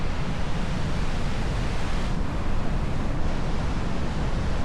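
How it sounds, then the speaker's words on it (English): The Siffleur River rushes through a narrow rock gorge below an observation deck, a dense, loud, unbroken roar of whitewater with no pauses. "Look at that, the power of the Siffleur River. As it rips right in between that."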